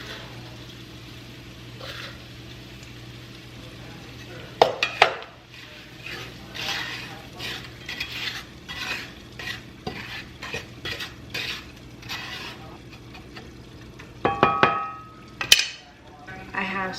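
Crackers being stirred into a stuffing mixture in a bowl for stuffed filet of sole, giving repeated scraping, rustling strokes with a few sharper utensil knocks on the bowl, close and steady, with no talking.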